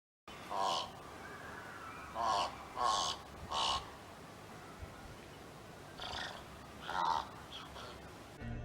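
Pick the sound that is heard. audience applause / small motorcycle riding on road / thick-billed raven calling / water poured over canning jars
thick-billed raven calling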